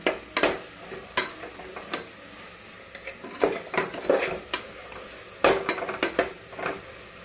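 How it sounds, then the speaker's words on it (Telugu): Thick masala for mushroom biryani being stirred and fried in a pan, with repeated scraping clinks of a spoon against metal over a faint, steady sizzle. The strokes come in irregular bursts, and no one speaks. "ఈ మసాలా అంతా ఎంత చిక్కగా ఎంత బాగా వేయించుకున్నామో"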